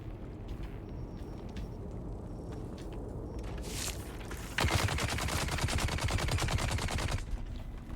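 Gatling gun in Dune: Awakening firing a rapid, continuous burst of dense rattling shots that cuts in loudly partway through after quieter scattered shots over a windy ambient bed.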